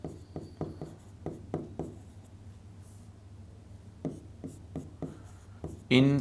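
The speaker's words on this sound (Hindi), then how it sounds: "और तीसरा मैं इधर नीचे लिख देता हूं" Chalk or marker writing on a board in a biology lesson, heard as a quick series of short scratchy strokes in two bursts with a quiet pause between them, fairly close and with no talk over it.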